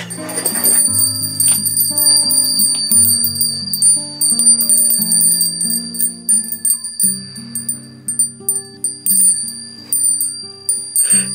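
Bright, shimmering shop door chimes ring continuously with overlapping metallic tones and tinkling accents, loud and close, with no talking.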